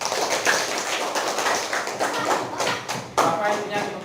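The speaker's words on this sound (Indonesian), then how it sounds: "Beri tepuk tangannya." A small classroom group claps in a scattered, uneven burst of applause lasting a few seconds, with light tapping rhythm and no voices.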